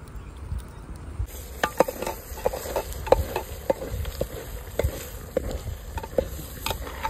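Chicken curry frying in a pot over an outdoor wood-fired stove on a farm, with a spoon scraping and clacking in an uneven rhythm over a low sizzle; no voices.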